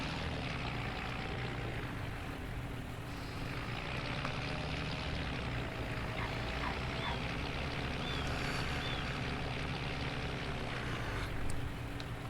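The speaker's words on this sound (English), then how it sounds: "Well, just park the tractor here." A tractor engine runs steadily on a farm estancia, a continuous droning hum with no pauses.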